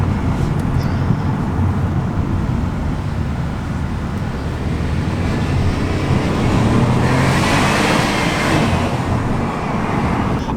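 Citroën C3 1.2 three-cylinder petrol engine on the move, a steady low drone with road and tyre roar, swelling louder as the car passes through a short tunnel near the end.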